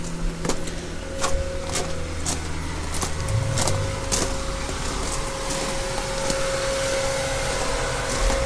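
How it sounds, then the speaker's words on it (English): A 4-ton air conditioner compressor unit runs outside a Las Vegas home with a steady droning hum under broad rushing noise, and faint irregular clicks and knocks scattered throughout. "I want to see what the compressor is."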